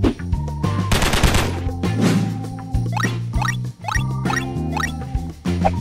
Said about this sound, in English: We're gonna shoot the High Point